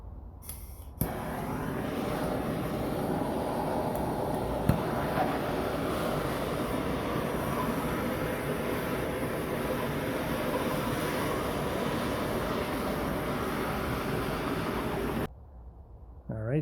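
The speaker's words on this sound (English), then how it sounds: "it's time to get that ring off with dueling map gas torches" Two MAPP gas torches heat the ring gear on a 1937 Plymouth Coupe flywheel, giving a steady, loud, roaring hiss that holds for about fourteen seconds after a sudden start and then cuts off abruptly.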